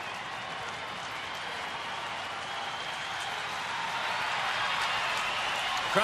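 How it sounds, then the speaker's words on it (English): A packed baseball stadium crowd cheers and claps in a sustained wash of applause during a night game, swelling louder toward the end, heard at a distance as broadcast ambience. "Crowd trying to help him out."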